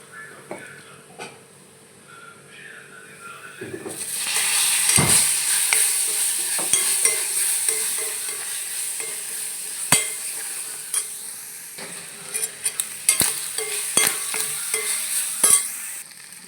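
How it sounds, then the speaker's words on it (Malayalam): Drained squid roasts in a hot pan, at first a quiet sizzle that jumps to a loud, steady frying hiss when the squid goes in, with a spoon scraping and clanking against the pan as it is stirred. "ഇനി ഇതിലോട്ട് വറ്റിച്ച ചണ കൂന്തലിട്ട് റോസ്റ്റ് ചെയ്തെടുക്കാം"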